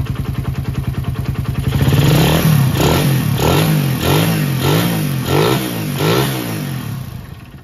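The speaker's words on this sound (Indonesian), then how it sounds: "Kita tes bukaan gas tipis-tipisnya dulu." A nearby carbureted motorcycle engine idles with a rapid putter, then repeatedly revs in short rhythmic throttle blips, rising and falling about six times.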